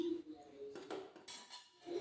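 A wok set down on a lit gas stove in a home kitchen, giving a few faint metallic clinks and clanks against quiet background noise.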